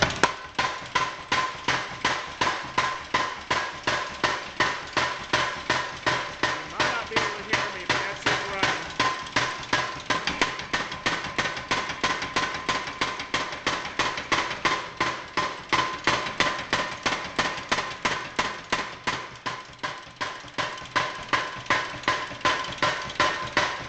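A blacksmith's power hammer pounds steadily in a fast, even rhythm, each close, loud blow ringing out, with a talking voice faint beneath the continuous hammering.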